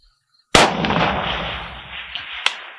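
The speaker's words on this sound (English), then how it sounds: "one more shot at that 400 yards" A single sharp rifle shot from a Zastava M90 fired outdoors at a 400-yard target, a loud abrupt crack followed by a long rolling echo that fades, with a faint distant thump near the end.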